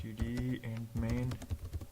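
Quick taps on a computer keyboard while C++ code is typed, a short burst of close clicks mixed with a voice talking over them.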